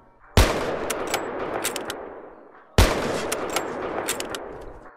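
Two loud, sharp gunshot blasts in the Unturned video game, each followed by a long rolling echo, spaced about two seconds apart with no talk.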